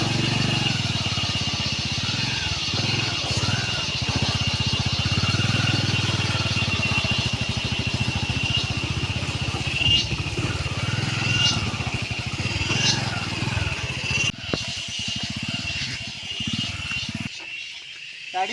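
Motorcycle riding along a muddy, rain-soaked dirt road toward a hill fort, its engine droning steadily and close for most of the stretch before briefly dipping near the end, with rough jolts from the slippery track.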